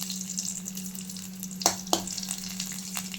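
Mustard seeds splutter in hot oil with dried red chilli pieces and curry leaves for tempering a bottle gourd kootu, a steady close sizzle broken by two sharp pops and a few lighter crackles, with no talk.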